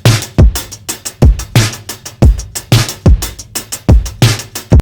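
Punchy rock drum loop stacked with a booming trap kick, produced in FL Studio, with loud kick and snare hits repeating in a steady, powerful pattern.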